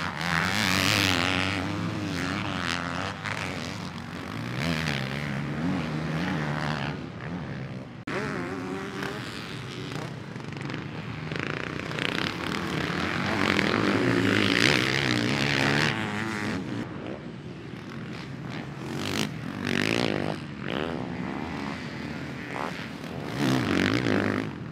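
Honda CRF450RWE dirt bike, a 2023 garage-build project, ridden around Glen Helen Raceway, its engine droning and revving continuously with rising and falling pitch, loud and close, no talking.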